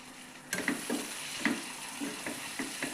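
Ginger garlic paste frying with potatoes in a pan, a close sizzle broken by a series of stirring scrapes and taps at an uneven rhythm, with no one talking.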